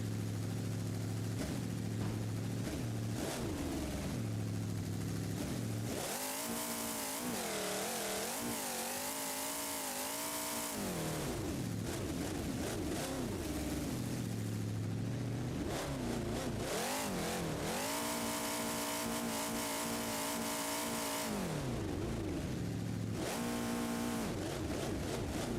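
At a monster truck show in Gilbert, PA, the Bad News Travel Fast monster truck's engine rumbles low, then bursts into two long, loud, roaring revs that rise and fall in pitch. Quick throttle blips follow, with no voices.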